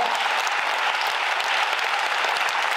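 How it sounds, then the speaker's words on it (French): Continuous applause from a theatre show audience, an even, dense roar of many hands clapping at steady loudness throughout. "Ça mérite un autre applaudissement, non?"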